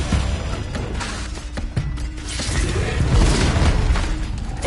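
Loud, dense blasts and booms from a Confringo fire-blasting spell in a wizard-duelling video game, with several sharp bursts and crackling impacts one after another over a continuous rumble.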